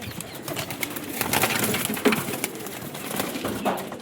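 Pigeons cooing in a loft of good-quality birds offered for sale, several soft throaty coos close by with light rustling and a brief flutter of wings.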